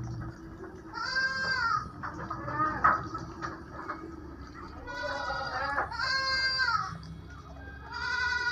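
Goats penned together with Muscovy ducks bleat repeatedly from a raised stilt pen, several wavering, nasal calls in uneven succession, fairly close, over a low rustling farmyard background.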